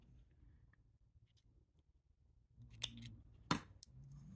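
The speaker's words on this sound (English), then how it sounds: "Then I'm going to cut my thread here." Small snips cut beading thread close by: a quiet lead-in of faint handling, then a couple of crisp clicks near the end, the sharpest one a single distinct snap.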